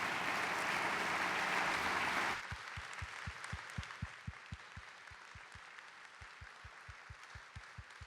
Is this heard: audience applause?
yes